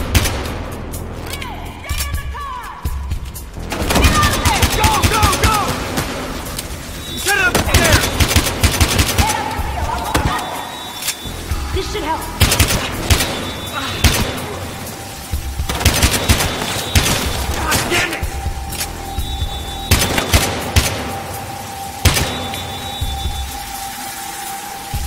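Pistol and shotgun fire in the video game Battlefield Hardline, with bursts of loud close gunshots and rapid volleys repeating over the whole stretch, along with game effects and background noise.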